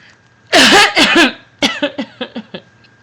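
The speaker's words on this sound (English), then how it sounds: "Sorry, I'm coughing so much tonight." A loud burst of coughing, then a string of five or six shorter coughs tapering off, close up with no talking.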